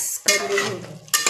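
Spoon scraping and clinking in a pot as onion, garlic and ginger paste is stirred in, a short burst of close, busy metallic stirring sounds with a faint sizzle beneath.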